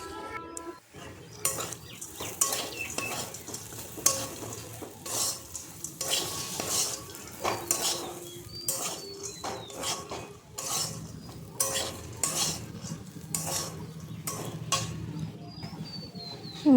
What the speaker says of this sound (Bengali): চানাচুরটা দিয়ে মিনিট 10 মতো ভালো করে নাড়াচাড়া করে নেব